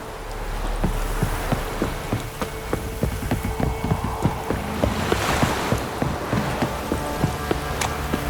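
Steady rain in The Witcher 3: Wild Hunt pours as a dense hiss with scattered sharp drips and patters, loud and continuous throughout, no voices.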